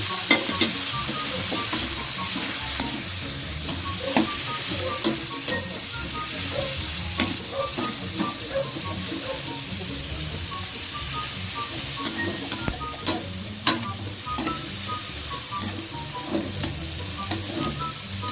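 Broccoli stir-frying with ground pork in a pan gives a loud, continuous sizzle and hiss, broken by frequent scraping clicks and taps as the food is stirred, with no talking.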